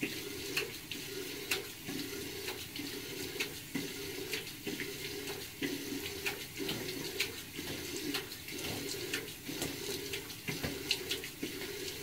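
Hot water running from a bathroom tap while someone rinses their face, a steady splashing stream broken by repeated sharp splatters as water is scooped and hits the sink.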